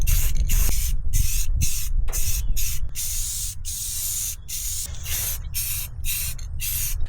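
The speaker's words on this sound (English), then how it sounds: "So I'm gonna hit this thing with a coat of spray paint" A spray paint can laying down a coat of paint in a string of close, loud hissing bursts of varying length, separated by brief pauses, with no talking.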